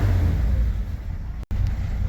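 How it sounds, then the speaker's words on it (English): A Chevy C10 straight six with a carburetor fault runs rough, a loud, continuous low engine rumble with uneven pulsing and one abrupt dropout near the end, alone without talk. "Here, I think I hear backfiring, how rough it is."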